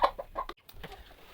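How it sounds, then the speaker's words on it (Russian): Several backyard hens peck and cluck softly while eating homemade chicken feed, a few short close clucks in quick succession followed by quieter scratching and muttering. "Так, вот курочки мои едят."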